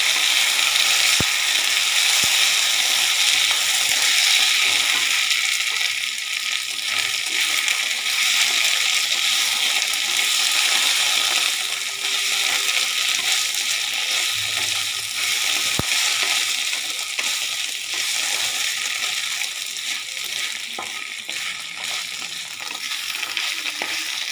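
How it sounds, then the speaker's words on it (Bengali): Potatoes and spices fry in a pan for muri ghonto, a steady loud hiss and sizzle lasting throughout with occasional scraping and clicking as they are stirred and mixed. "এবার খুব ভালো করে মশলা আর আলুকে মিক্স করব"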